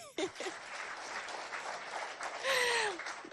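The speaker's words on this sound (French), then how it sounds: "Applaudissez." Audience applause at a lycée talent contest in Doba, rising briefly near the end with a whistle, moderately loud and heard alone without talk.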